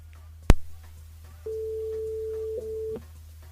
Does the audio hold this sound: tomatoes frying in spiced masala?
no